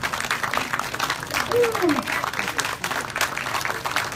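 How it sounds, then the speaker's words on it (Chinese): Continuous applause from an audience at a temple groundbreaking ceremony, even dense clapping throughout with a short spoken utterance over it midway. "掌声不断哦。"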